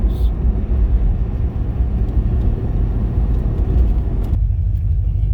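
A Chevrolet Corvette Z06 with a supercharged LS3 engine, mufflers open and not yet fully warmed up, fills the cabin with a loud, steady low exhaust drone that suddenly eases off near the end.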